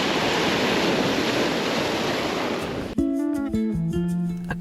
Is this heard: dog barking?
no